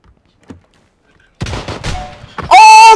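Gunfire in Battlegrounds, a few sharp broadband cracks after a quiet start, ending in a loud sustained blast; voices talk under it.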